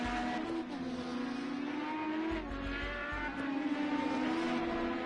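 IndyCar race cars in a racing video game at Le Mans, including Chip Ganassi team cars, roar past with high, shifting engine whines and faint tire noise, continuous and loud for several seconds.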